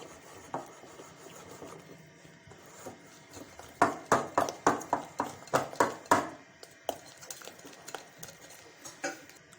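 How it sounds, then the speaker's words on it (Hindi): Jalebi batter is beaten with a hand whisk in a bowl, giving a run of rhythmic, close scraping and tapping strokes that quicken in the middle and then trail off into sparser beats. "मैं हैंड विस्क के थ्रू कर रहा हूँ।"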